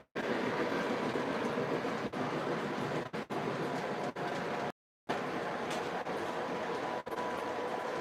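An MTH model train runs along its track with a steady rolling rattle and faint clicks. The sound cuts out briefly partway through.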